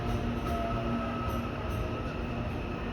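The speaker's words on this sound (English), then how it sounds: "This is another train to the city, also about to arrive." A commuter train arriving at Newmarket station in Auckland gives a steady, loud rumble and hum throughout, with a faint high whine above it and no talk.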